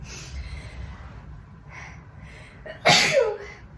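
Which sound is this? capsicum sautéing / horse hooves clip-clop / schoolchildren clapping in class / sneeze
sneeze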